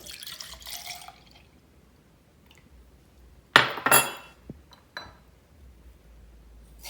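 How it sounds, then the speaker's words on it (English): Milk poured into a container for a protein shake, a short burst of liquid splashing and trickling amid a few light clinks of kitchenware, fairly close in an otherwise quiet room. "So first we pour the milk."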